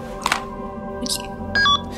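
Cell phone keypad tones, a few short electronic beeps spaced across the clip with a longer steady tone near the end, heard alone and fairly close.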